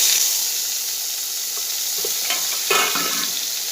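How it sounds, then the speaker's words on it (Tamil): Chopped onion and tomato sizzle steadily in a hot pan of ragi semiya mix, a continuous close frying hiss with a few soft stirring scrapes and no talk. "இப்போ கட் பண்ணி வச்சுருக்கிற வெங்காயம் தக்காளி சேர்த்துக்கலாங்க."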